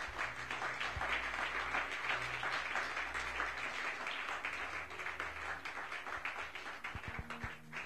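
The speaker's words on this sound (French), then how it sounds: "Est-ce que tu peux acclamer le Seigneur?" Church congregation applauding to acclaim the Lord, sustained dense clapping and cheering from many people that carries on steadily throughout.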